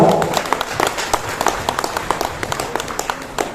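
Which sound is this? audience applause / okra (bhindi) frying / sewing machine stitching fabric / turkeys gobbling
audience applause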